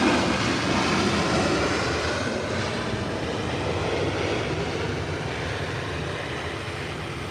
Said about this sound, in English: She's rolling down the runway.